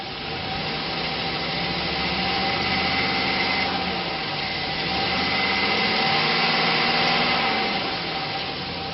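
The 6.0 liter engine of a 2004 Chevrolet Silverado 2500 with automatic transmission idles steadily, a constant low hum with a faint whine, with no voices.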